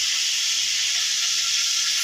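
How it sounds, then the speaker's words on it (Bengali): Dried red chillies frying in oil in a kadai for a banana flower and prawn bharta, a dense, continuous hiss of sizzling that stays loud and even for the whole moment, with no talking. "আমি সেখানে ভর্তার মধ্যে শুকনো লঙ্কাগুলো ভেজে তুলে রাখছি"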